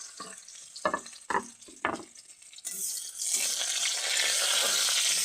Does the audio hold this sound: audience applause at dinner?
no